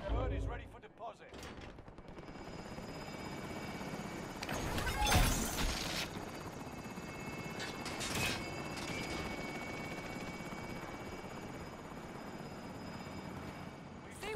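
Helicopter in the video game Call of Duty: Modern Warfare, with a steady, loud rotor drone throughout, joined by sharper bursts like gunfire around the middle and brief game voice lines.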